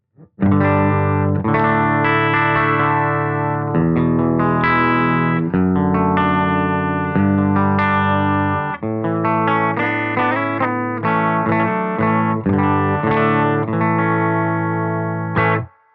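Electric guitar plays chords and riffs through an amplifier, a full, steady tone ringing continuously with a brief pause midway.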